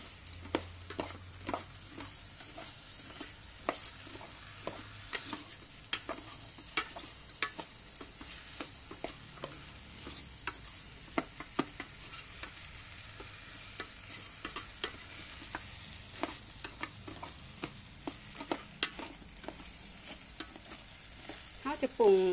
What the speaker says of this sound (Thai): คนส่วนผสมทุกอย่างให้เข้ากันจ้า